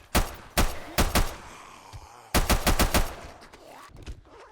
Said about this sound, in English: Oh, I guess we're shooting.